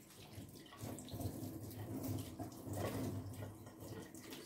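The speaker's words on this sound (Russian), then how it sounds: "сразу из-под крана заполнять" Tap water running into a jar for pickled cucumbers, a steady splashing gush that keeps going for several seconds, fairly close but quiet, with no talk.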